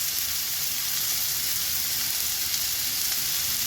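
Red and white bell pepper slices dropped onto mushrooms frying in a pan send up a loud, steady, hissing sizzle that holds evenly throughout, close up, with no voices.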